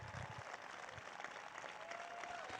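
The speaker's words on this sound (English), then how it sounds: "Give them applause, all these people who stood up." Audience applause at a presidential speech by Joe Biden celebrating the Inflation Reduction Act, faint, distant-sounding clapping from a crowd, steady throughout with a few low murmurs.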